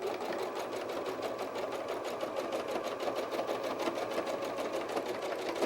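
A sewing machine stitches felt for a bear softie in one steady, continuous run, its needle pulsing in a fast, even rhythm close by with no talk over it.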